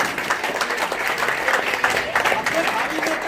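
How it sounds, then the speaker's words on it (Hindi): Brisk, close clapping from a gathered audience at an annual community meeting in Bharuch, rhythmic and crowded, with a voice speaking over it. "निकलिए, जोरदार तालियां।"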